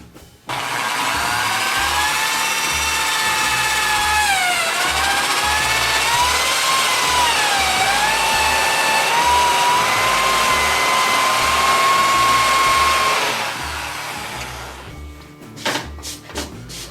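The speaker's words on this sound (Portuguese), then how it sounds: "Agora com a broca chata, eu vou fazer o furo onde eu entro com a tupia." A power drill with a spade bit boring a hole through a wooden board in a woodworking shop: a steady, loud motor whine with a bit of pitch wobble, about twelve seconds long. It winds down at the end with a few light knocks.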